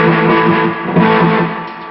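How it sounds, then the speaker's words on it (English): Palm-muted rockabilly guitar played through a Fender Twin amp with slapback echo and light vibrato, thick distorted chugging notes sounding loud and close for a short burst. "A good way to check it is if we palm mute the guitar. Just a quick pop pop."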